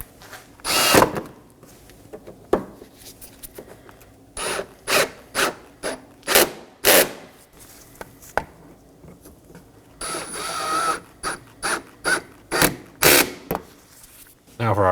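A power driver snugs down Phillips head screws on a front inner fender liner trim piece of a 2015-2023 Nissan Maxima, producing a series of short, loud whirring bursts with brief pauses between them, close by.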